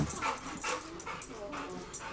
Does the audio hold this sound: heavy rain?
no